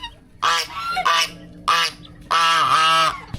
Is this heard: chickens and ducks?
yes